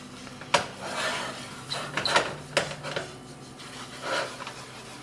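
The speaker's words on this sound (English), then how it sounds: "Now we're gonna add 4 tablespoons of flour. There's 4 tablespoons of each. Gonna whisk and stir that in really good." Flour being whisked into melted butter in a pot for a mac and cheese roux, heard as irregular scraping and clinking strokes of a whisk against the pan, close and moderately loud with no voices.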